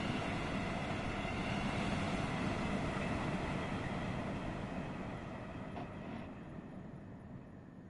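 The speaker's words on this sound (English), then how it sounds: "can still hear the track singing." A train passes on the West Coast Main Line Trent Valley in Train Sim World 6. The loud, steady rumble of wheels on track slowly fades as it recedes, with a faint ringing of the rails and no talking.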